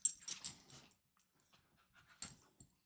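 A dog pants and whimpers up close in a few quick breathy bursts at the start, then goes mostly quiet before one more short burst near the end.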